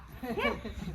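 A dog on open farmland gives a single short whining yelp, close by and moderately loud, over low background sound.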